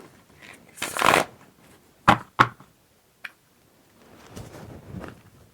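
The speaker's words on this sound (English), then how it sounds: "let's give it a shuffle here and see what else comes up" Tarot cards being shuffled by hand, a riffling burst followed by a few sharp taps and soft card slides, close and fairly quiet with no talk.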